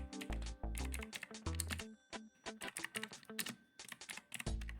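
Fingers typing on a computer keyboard, a quick uneven string of close, crisp key clicks in several bursts with short pauses between them, heard alone without speech.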